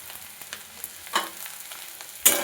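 A spiced filling seasoned with salt, a little sugar, coriander powder and cumin powder is stir-fried in a pan, giving a soft low sizzle with scattered spatula scrapes and two sharper stirring bursts.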